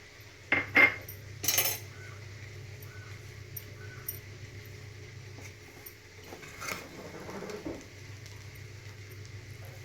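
Ingredients for coconut rice being stirred in a pan, heard as a few sharp metallic spoon clinks and scrapes early on, then quieter intermittent scraping over a low steady background hum.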